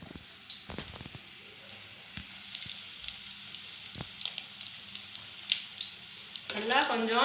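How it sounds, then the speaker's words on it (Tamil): Bread pieces frying in hot oil in a pan for Tamil-style bread halwa, a soft steady sizzle with scattered crackles and pops, growing louder near the end, with a voice speaking over it. "எண்ணெய் சட்டி சூடாகிட்டு இப்போ வந்து ப்ரெட்டை போட்டுக்கலாம்."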